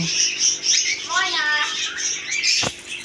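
Birds squawk and chirp in a busy bird and pigeon market at Pabna Kashinathpur, with repeated shrill calls and a rapid trilling cry over crowd murmur and a sharp knock near the end.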